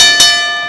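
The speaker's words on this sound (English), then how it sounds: "The bell sounds and we are underway" At a GCW pro wrestling event in a civic center, a single loud ring-bell strike clangs once, its bright metallic tone ringing on and slowly fading.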